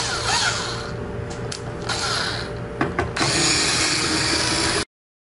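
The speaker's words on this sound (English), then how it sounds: "I'll be using a Torx T10 to remove all these screws." A Torx T10 screwdriver backs screws out of a Volvo semi truck's warning buzzer speaker, giving close, continuous ratcheting clicks and scraping with a few sharper knocks before cutting off abruptly.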